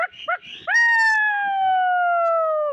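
A man imitates a dog, giving a couple of quick yelping barks and then a long, loud, drawn-out howl-like cry that slowly falls in pitch, voiced close to the listener.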